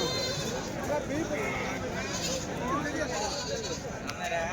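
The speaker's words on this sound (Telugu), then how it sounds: "మేకల గుంపు అయితే ఉందండి" Several goats bleating repeatedly, overlapping calls from a nearby herd at a weekly livestock market, amid general outdoor background noise.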